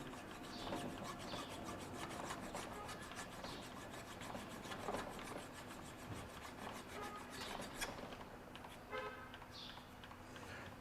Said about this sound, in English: is just kind of filing the top of this to get it as flat as I can